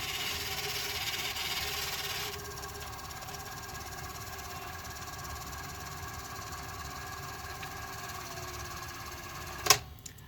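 An Electrohome S-VHS VCR, model AVR K44, rewinding a cassette with a steady mechanical whir and bearing hum. The loud whine drops slightly after a couple of seconds, and a sharp click near the end suggests the transport stopping.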